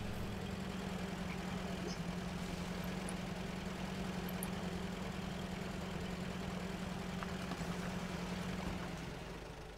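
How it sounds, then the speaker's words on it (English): In the video game Spintires Mudrunner on Xbox One, a truck engine idles with a faint, steady, low drone that holds throughout before easing slightly at the end. "Start my engine."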